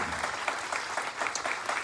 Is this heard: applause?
yes